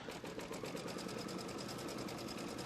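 An embroidery machine tacks down a plaid fabric block, its needle running in a fast, even, rapid mechanical stitching rhythm, close and steady throughout.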